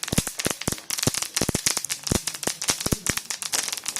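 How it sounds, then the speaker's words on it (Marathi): Chutney ingredients crackle and pop while dry-roasting in a pan, a dense, continuous run of sharp, close snaps throughout. "हे छान उडू लागले की असं समजायचं की आपले जवळ भाजत आलेले आहेत छान आवाज येतो याचा भाजताना"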